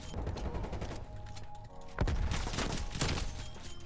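Rapid gunfire rattles in Call of Duty hardcore mode, dense bursts of automatic shots with a heavier volley near the middle, loud and close over game background noise.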